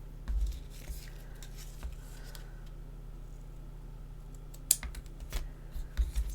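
Scissors trim paper for a handmade sketch card, giving a few sparse, crisp snips over a steady low background hum, with no talking.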